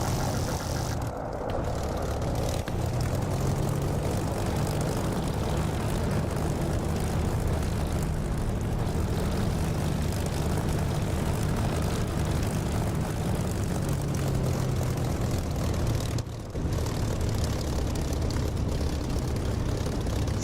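A propeller aircraft in the DCS flight simulator taxis off the runway, its engine a steady, loud, continuous drone with a brief dip in the middle.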